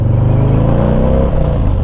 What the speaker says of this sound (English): that's the Bassani exhaust